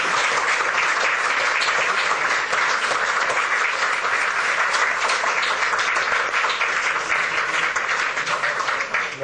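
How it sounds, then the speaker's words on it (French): Dense, loud applause from a large audience after a speech at a French Senate gathering, sustained clapping that fills the whole stretch without letting up. "les applaudissements qui ont suivi après l'intervention de Madame la Présidente Mariam Rajavi indiquent"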